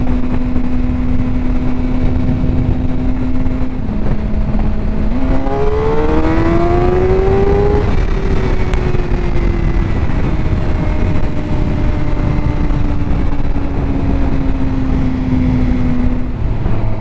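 A motorcycle rides into the evening, a steady engine drone under constant wind roar that rises in pitch through the gears and then settles at cruising speed.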